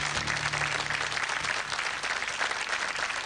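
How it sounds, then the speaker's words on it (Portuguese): A studio audience at a Portuguese game show final applauds its five finalists, loud and sustained, for the whole stretch. A brief low musical tone sits under the clapping at the start. "Aplausos para os nossos 5 finalistas."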